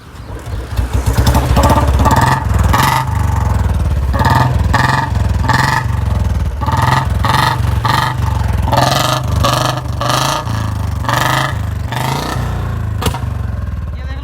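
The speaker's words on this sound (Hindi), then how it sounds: "अब मैं सुना देता हूँ तुम्हें साउंड इसकी कि भाई हमारी बुलेट साउंड कैसा कर रही है" A modified Royal Enfield Bullet 350 single-cylinder motorcycle exhaust thumps and revs repeatedly, loud and close, with rhythmic bursts of throttle rising and falling.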